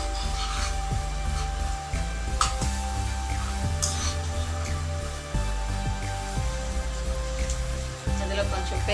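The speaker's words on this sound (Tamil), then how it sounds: "அப்புறம் கருவேப்பிலை லைட்டாக ஃப்ரை பண்ணிட்டு" Curry leaves frying lightly in oil for pongal, a steady soft crackle and sizzle under continuous background noise.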